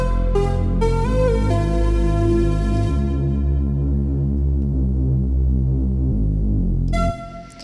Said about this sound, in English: this trappy Reese bass sound made in Sytrus